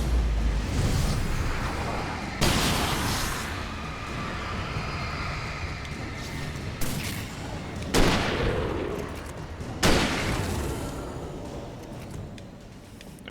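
Flare gun shots in Alan Wake Remastered: several loud bursts spaced a few seconds apart, each flaring and then hissing away, over tense game ambience.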